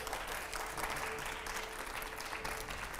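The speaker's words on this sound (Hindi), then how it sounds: "अगले सवाल के लिए एक बार फिर से जरा जोरदार तालियां हो।" A live studio audience at a Delhi political interview programme breaks into sustained applause, a continuous, fairly loud wash of clapping that holds evenly for a few seconds with no talk over it.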